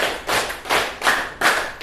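Students in a classroom clap a counted rhythm pattern, several bursts of claps in quick groups, loud and close with no talking over them.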